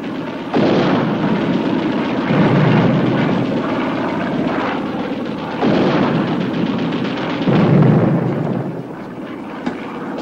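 Heavy naval anti-aircraft gunfire from a warship's portside guns pounds in long rolling bursts, loud and close, with short pauses between volleys and a roaring rumble underneath.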